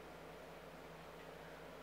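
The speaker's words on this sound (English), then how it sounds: "you can hear my AC in the background" A steady, faint air conditioner hum with a low drone and soft broadband hiss, continuous and unchanging, with no one speaking.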